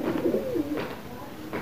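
A freshly caught pigeon coos close by in a couple of soft, low throaty phrases, with light background noise and no talk over it.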